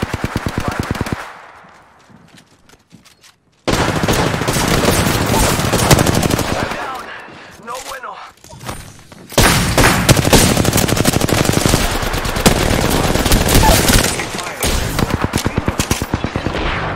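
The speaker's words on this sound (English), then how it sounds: "Taking fire!" Loud automatic machine gun fire in a video game, long sustained bursts of rapid shots split by short pauses, with brief bits of talk in the gaps.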